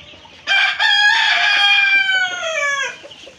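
A chicken lets out one loud, drawn-out squawking call up close, rising sharply and trailing off after a few seconds, with no talking.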